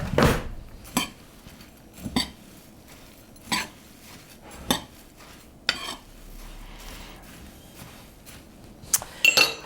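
Dry cocoa, baking powder and rolled oats being stirred together in a mixing bowl, with a scattering of distinct spoon-against-bowl clinks and scrapes at irregular intervals over soft background rustle, close and moderately loud, no talking.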